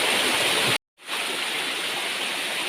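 The eighth tier of the nine-tier Pu Kaeng waterfall roars with a dense, steady rush of falling water, heard close, with a sudden brief dropout to silence before the flow resumes.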